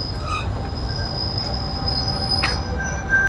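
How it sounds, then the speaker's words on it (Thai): A train pulling into a station and braking, its wheels giving a thin, high metallic squeal over a steady low rumble of rolling stock, fairly close and alone without talk. "รถไฟก็จะมาจอดที่นี่ด้วยนะบางขบวน"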